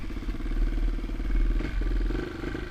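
A restored Honda XR200RC motorcycle engine runs steadily with its choke on, giving a close, loud, rhythmic single-cylinder putter and a slight mechanical clatter, and no voices over it.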